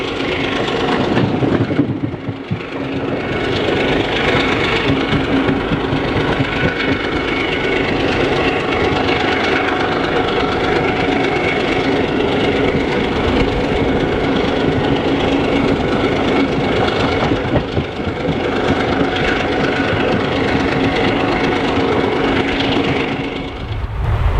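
The CIRCAR Express passenger train runs on rails from Kakinada toward Vijayawada, a loud, steady onboard rumble with wheel clatter and rattling carriage noise throughout, no voices.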